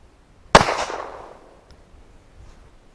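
A 9mm pistol fires a single rat shot round with a sharp, loud crack that rings out and fades over about a second outdoors, followed by quiet.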